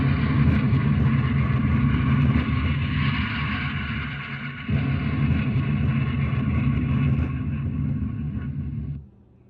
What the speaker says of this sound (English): This is where you can hear the jet sounds of many different jets, including US Air Force jets